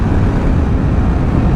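Wind rushes past a Yamaha R15 V4 motorcycle at speed, a loud, steady, unbroken roar of buffeting air with no voices.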